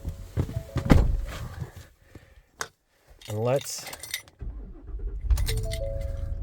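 Someone climbs into a pickup truck: keys jangle, a door thunks and movement shuffles in the cab, with a short spoken phrase and brief quiet gaps between the sounds.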